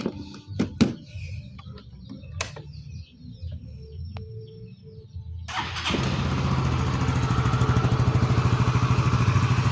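A few quiet clicks and knocks, then a Yamaha Mio MXI 125 FI scooter engine starts and runs steadily, loud and close, with a buzzing rattle of loose covers over its idle.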